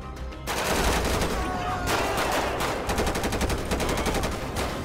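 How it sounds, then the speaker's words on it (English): Rapid bursts of automatic gunfire crackle in GTA 5 during a SWAT and military police patrol, with dense repeated shots and fusillades running nearly the whole time over a loud, busy battle. "this guy's already starting to fire at us"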